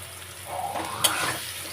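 Prawns drop into a hot pan for a green bean dish and burst into a short sizzle that swells for about a second with a brief clatter, then settles to a soft hiss.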